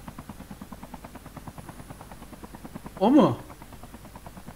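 Helicopter in Call of Duty Mobile, a steady rhythmic rotor thump that runs throughout, with a brief voice cutting in near the end.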